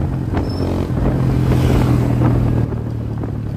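Kawasaki Barako motorcycle engine test run, a bike reported to stall after hard riding, running loud and close with a steady, throbbing idle that swells briefly in a mild rev before settling back.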